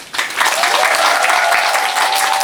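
A theatre audience applauds loudly and steadily after the final curtain call of a musical, a dense wash of clapping throughout with cheering mixed in.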